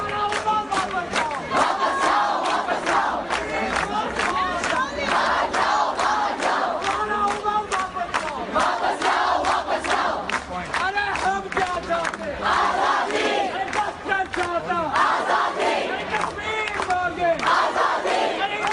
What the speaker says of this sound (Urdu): یہ آزادی کے نعرے نئی دلی میں لگ رہے ہیں